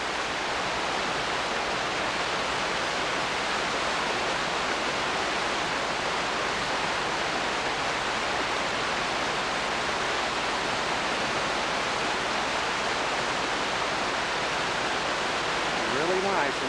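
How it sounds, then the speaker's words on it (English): A waterfall near Silverton, Colorado pours in a steady, dense broadband roar that stays loud and unchanging from start to finish, with no pauses or separate splashes standing out. "More waterfalls that Bonnie found."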